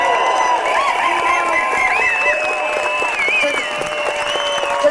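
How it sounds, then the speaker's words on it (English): Applause and cheering from a crowd at a 1998 cannabis legalisation march in London, steady clapping mixed with whoops and shouting voices throughout. "so give them a clap"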